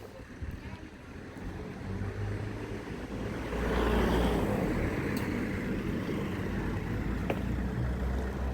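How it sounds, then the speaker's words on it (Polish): Road traffic rumbles past the sixteenth-century water tower in Głogówek, Poland, a steady wash of engine and tyre noise swelling as a car draws near, then holding at a constant roar. "Nawet tutaj mnóstwo samochodów."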